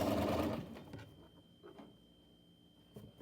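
A sewing machine stitching a fly front zipper seam at half an inch, a brief rapid mechanical whir that runs for about half a second and then drops to quieter ticks.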